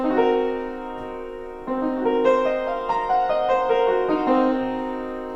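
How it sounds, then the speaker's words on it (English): A sustained, sonorous minor seven flat five chord rings out, then a second voicing is struck and held, rich and melancholy, with no voices. "the first one we'll talk about is called a minor 7 flat 5"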